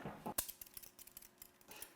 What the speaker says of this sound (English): And I'm just going to snip with scissors.